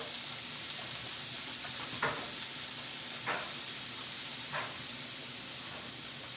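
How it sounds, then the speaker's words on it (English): Vegetables and mushrooms sauté in grapeseed oil with a steady, soft sizzle and hiss, broken by three brief scraping stirs spaced evenly apart. "I'm using grapeseed oil to saute everything down"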